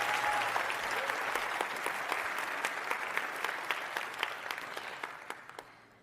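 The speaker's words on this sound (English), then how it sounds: "Give him a round of applause." Sustained applause from a large keynote audience at a tech conference, steady and dense with sharp individual claps standing out, gradually thinning and fading toward the end.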